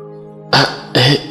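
A woman gives two sharp, loud throat-clearing coughs close by, the second following the first after a short pause, with quiet room tone before them.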